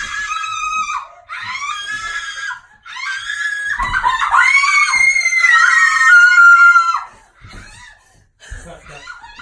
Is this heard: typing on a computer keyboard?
no